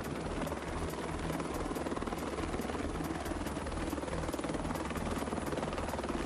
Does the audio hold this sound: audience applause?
no